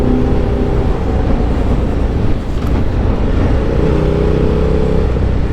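A KTM Super Duke 990R motorcycle with a 999.8cc engine, about 20,000 miles on it, drones steadily while being ridden, a loud, continuous engine note mixed with road and wind noise, no voices.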